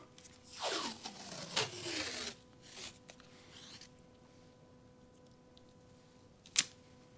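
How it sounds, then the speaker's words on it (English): Adhesive tape is pulled off the roll in several quick ripping strips while taping up a BMW F30 rear bumper, close and fairly quiet, followed by softer handling noises and a sharp click near the end. "We'll just go ahead and get this side taped up as well."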